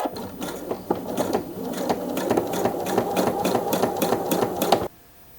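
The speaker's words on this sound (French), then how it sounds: "je peux continuer ma couture toujours à 1 cm" Sewing machine stitching a coat collar seam at a 1 cm allowance, a rapid even run of mechanical needle clatter lasting several seconds before stopping abruptly, close and clear with no talk.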